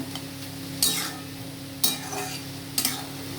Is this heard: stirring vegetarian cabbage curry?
yes